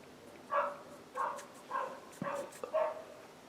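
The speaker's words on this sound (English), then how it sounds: "Listen to that dog." A dog barks five times at a distance, evenly spaced single woofs over quiet background hiss, faint and alone with no talking.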